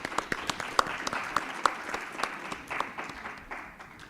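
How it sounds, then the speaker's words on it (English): Scattered clapping from a conference audience welcoming a female panelist, moderate and somewhat sparse, with individual claps audible over a murmuring room for several seconds. "Applause for her, please."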